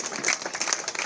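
Light applause at a Hindi-language community felicitation event honoring a corporator, scattered claps forming a steady, moderately distant patter with a faint voice beneath.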